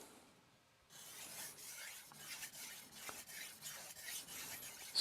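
A knife drawn in long, light strokes across a 3000 grit vitrified diamond sharpening stone, a close, soft rasping repeated in a steady rhythm of about ten strokes after a short quiet start.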